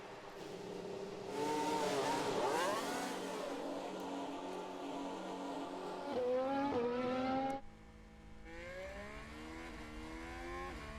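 A Formula 1 car in the F1 Manager video game revs hard at the launch, with a loud rising and falling engine whine and sharp gear-change pitch sweeps. It cuts off abruptly, then a quieter engine tone climbs again.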